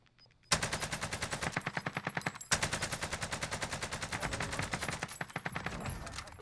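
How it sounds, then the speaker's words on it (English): Rapid automatic gunfire in Call of Duty Warzone, with loud continuous bursts of tightly spaced shots, one short break, then more sustained firing close by. "I hear shooting in that direction, though."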